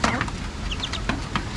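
Backyard chickens clucking close by, several short, irregular clucks and squawks from the flock of hens, with some rustling and low background noise.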